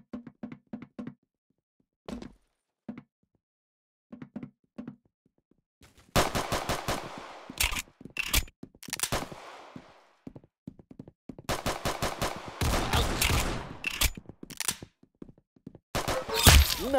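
Gunfire in the Roblox shooter Arsenal: sparse single shots and short taps at first, then rapid automatic bursts and clustered volleys, loud and close, with gaps between exchanges.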